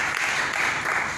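Church congregation applauding together during a worship service, a dense, sustained wash of many hands clapping at close range with no gaps.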